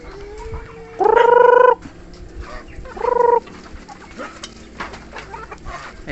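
Rhode Island Red chickens at feeding time: two loud, drawn-out squawking calls close by, the first longer than the second, over a background of softer clucks and yard noise.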